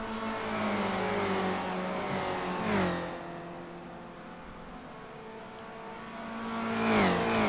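Spec Racer Ford race cars at Watkins Glen roar loudly as they race, holding a sustained engine drone that rises and falls through gear changes, with one car passing near the middle and another climbing in revs near the end.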